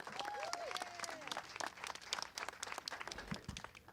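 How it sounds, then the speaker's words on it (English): Faint, steady applause from an audience at a Detroit community event as a speaker named William Griffin is welcomed to the stage, a dense patter of many hands heard from a distance for several seconds. "Let's give him a round of applause."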